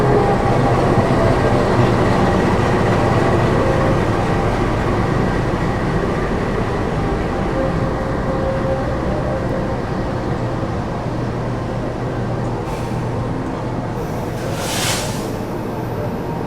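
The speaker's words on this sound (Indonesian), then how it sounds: "Yang akan masuk di jalur 3 adalah kereta api Jayabaya." Jayabaya passenger train rolling into a station on track 3, a steady loud rumble of wheels and carriages throughout, with a brief high screech of brakes near the end.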